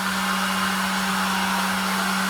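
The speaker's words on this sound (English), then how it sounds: "So I just got the hair dryer, moving it down little by little" A hair dryer blows continuously up close, heating ice and water shield sound-deadening material to flatten it onto a car's curves, a loud, steady whoosh of air over a constant motor hum, with no talking.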